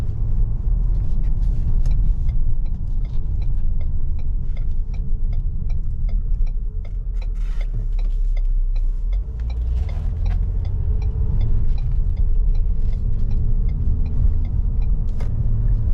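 A 2018 Ford Explorer Sport 4X4 rolls along a bumpy road, heard from inside as a loud, steady low rumble of tires and road noise with faint rattling ticks over the bumps, no speech.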